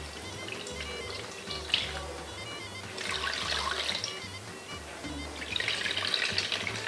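Water poured into a cooking pot of potatoes after a splash of oil, a steady liquid rush with splashy bursts lasting several seconds, close and moderately loud in a kitchen, no talking.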